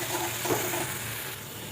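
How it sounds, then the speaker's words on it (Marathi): Ground green chillies hit hot ghee in a pan, giving a soft, steady sizzle with light stirring scrapes over a brief moment, fairly quiet and without voices. "तूप छान गरम झाले, त्यामध्ये लगेच मी वाटलेली हिरवी मिरची टाकते."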